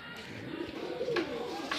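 Madrasi pigeons, semi-adult birds from a loft, give a soft throaty coo close by, brief and low over faint background noise.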